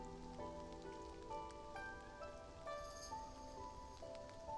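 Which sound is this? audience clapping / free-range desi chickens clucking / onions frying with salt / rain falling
rain falling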